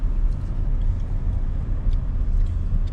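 Heavy, congested road traffic inside a town in rural China near Wuhan, heard as a loud, continuous low rumble of car and bus engines with faint passing noises on top.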